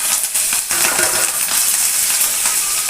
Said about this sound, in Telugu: పచ్చెనగపప్పు వేగిపోయినాక ఆవాలు, జీలకర్ర, కరివేపాకు వేసుకోవాలండి.